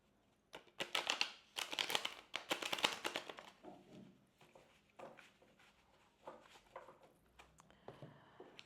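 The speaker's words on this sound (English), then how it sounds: "Let me shuffle this deck as well." A tarot card deck being shuffled by hand, with quick papery riffles and crinkly bursts in two clusters, then softer scattered taps and slides, close and fairly quiet.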